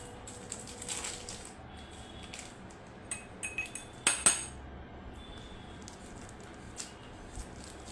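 A spoon clinks and taps against a glass of water in a handful of light, irregular strikes amid quiet background, with a cluster of sharper clinks midway.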